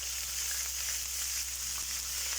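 Garlic and ginger paste frying in a pot for a whole masoor lentil dish, giving a steady, continuous sizzle with no speech.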